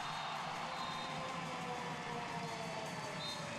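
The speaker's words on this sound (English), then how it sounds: "Crowd are enjoying that." Spectators at a women's handball match between Croatia and Germany at the EHF EURO 2014 cheer and whoop in a broad, continuous roar that stays steady and loud throughout.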